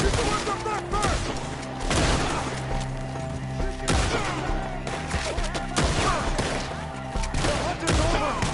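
A Red Dead Redemption 2 shootout crackles with repeated loud gunshots and bursts of fire in irregular rhythm, while voices shout over the battle.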